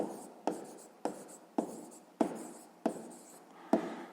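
A pen writes a math answer on paper for a sixth-grade exercise, making about seven crisp strokes at an even pace of roughly one every half second. The sound is close and quiet, with no voice over it.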